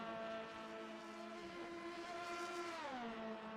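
A race car engine in a Le Mans 24 Hours racing game screams through the Porsche curves, a loud continuous high-revving drone with pitch easing down as the car brakes into a corner.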